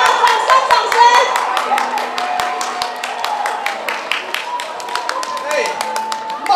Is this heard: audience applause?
yes